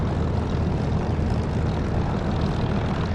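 A propeller aircraft engine in the DCS flight simulator runs at roughly 1,300 to 1,400 rpm with a steady, loud, low droning rumble that holds constant throughout and carries no talk.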